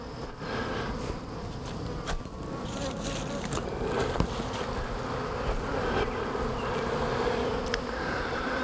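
Honey bees swarm and buzz around an open beehive during a hive inspection, a dense, steady drone of many wings close to the microphone, with individual bees zipping past now and then.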